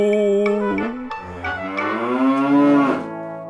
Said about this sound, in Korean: 음메 음메 소리뿐이었지요.